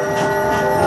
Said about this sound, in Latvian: Vai tas ir vilciens no Lielpilsētas?